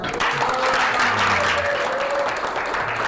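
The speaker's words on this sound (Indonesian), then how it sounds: "tepuk tangan buat kita semuanya" A class of students applauds together in a school lesson, a dense, steady clatter of many hands clapping at once and sustained evenly throughout.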